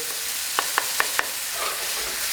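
Tofu fries over high heat while it is broken up, a soft continuous sizzle with four quick, crisp taps of a utensil against the pan in a short run.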